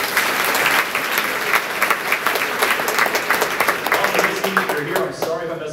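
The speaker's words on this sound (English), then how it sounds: "give them a round of applause as well" Applause from an audience at a college athletics awards ceremony, dense clapping that thins into scattered individual claps before a voice begins speaking near the end.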